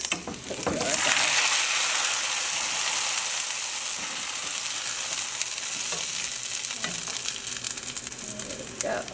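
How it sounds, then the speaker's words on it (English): Tofu frying in a hot pan gives a dense, loud sizzle after a brief handling noise at the start, holding steady and close throughout. "And I'm gonna fry my tofu."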